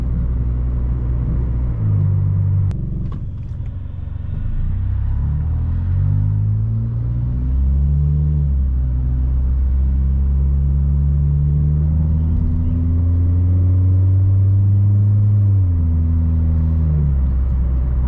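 The engine of a 2002 Lancer with a 4-speed automatic, heard from inside while driving, rising in steady drones and dropping at each gear change across several shifts, loud and close with no talking.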